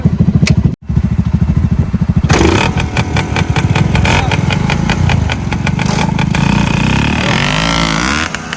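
A motorcycle engine, either a Rajdoot or a Hero Splendor, starts up after a brief pause and then runs loud and close with rapid clattering revs and throttle blips for several seconds, with no voices over it.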